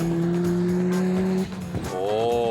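1984 Mazda RX7 race car on a track, its engine holding a loud steady note, then a brief break and a sharp climb in revs as it accelerates away under boost.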